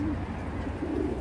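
A racing pigeon coos close by, low soft throaty calls repeating in two short bursts over faint background noise.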